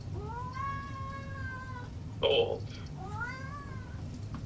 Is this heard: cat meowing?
yes